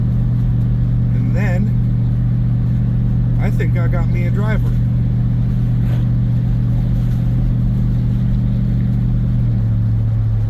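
A 1971 Dodge Polara with 31,000 original miles, back on the road after more than 20 years, runs with a steady, loud low engine drone throughout, and someone talks briefly over it.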